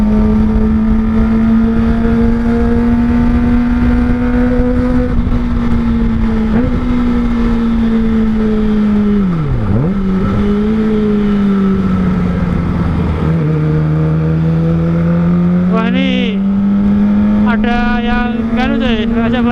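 A Kawasaki ZX25R motorcycle fitted with an R9 Zeta exhaust, ridden on the road, gives a loud, continuous, high-pitched engine drone close by, with its pitch rising and dipping as the throttle shifts and a sharp dip midway.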